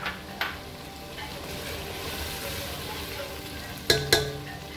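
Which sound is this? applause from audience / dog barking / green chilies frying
green chilies frying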